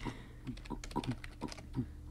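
Rapid clattering keystrokes on a computer keyboard in uneven bursts, fairly close and moderately loud, with no talking over them.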